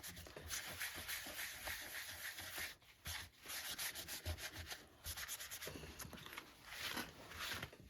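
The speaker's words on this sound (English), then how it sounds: "I'm just going to rub it right on the gesso that's stenciled" Paper towel rubbing and wiping ink off a stenciled gesso background, a continuous close scrubbing swish with short pauses near the middle.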